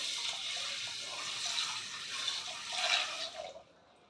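Water runs and splashes into a pressure cooker holding washed horse gram, a steady close pour that swells and then cuts off near the end, with no voices.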